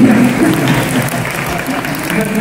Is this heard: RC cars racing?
no